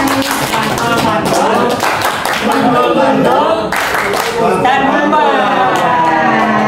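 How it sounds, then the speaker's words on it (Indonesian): An audience at a formal meeting claps for a speaker, a brief round of hand claps under continuous talk from a voice and other speakers. "Tepuk tangan Pak Ubay."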